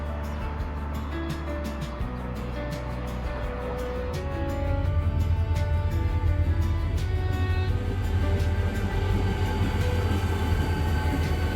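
A train at Jeomchon station in Korea rumbles steadily with a low droning engine hum that swells louder midway, with faint metallic ticks and no voices.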